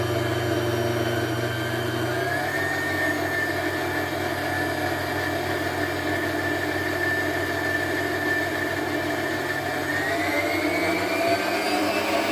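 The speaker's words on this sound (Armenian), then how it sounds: "լցնում եմ միքսերի թասի մեջ և միքսերը միացնում" An electric mixer runs steadily as it whips 33% cream in a bowl, a loud, continuous motor whine that shifts pitch slightly near the end, with no talking.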